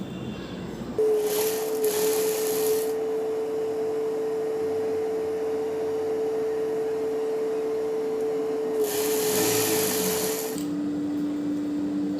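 A sewing machine stitches double-folded fabric to make thread piping, running as a steady hum for about ten seconds with brief noisy bursts near the start and end and a drop in pitch as it slows.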